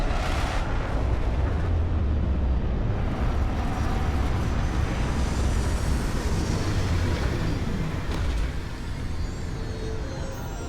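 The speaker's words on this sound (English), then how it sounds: "Retros fired." A spaceship's retro thrusters fire during a landing in Starfield, giving a heavy, continuous roaring rumble that stays loud and close for about ten seconds before easing slightly near the end.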